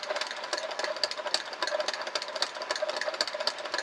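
A Prym i-cord maker is cranked by hand as it knits yarn, giving a steady, fast mechanical rattle and clicking that runs evenly from start to finish at close range.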